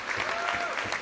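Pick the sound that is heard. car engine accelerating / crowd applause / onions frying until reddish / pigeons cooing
crowd applause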